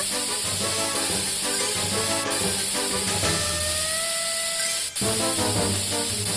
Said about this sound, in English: Use the spray to remove all the concrete.